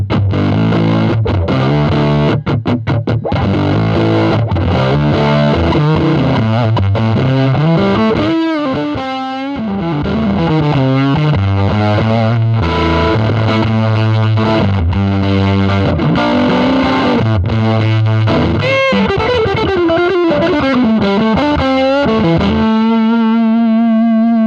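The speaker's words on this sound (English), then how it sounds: "we press the button on the fuzz face and it sounds a little bit like this" Electric guitar through a Fuzz Face fuzz pedal, a thick, saturated tone playing a continuous stream of lead lines and bends that sustain loudly for over twenty seconds, ending on a held note.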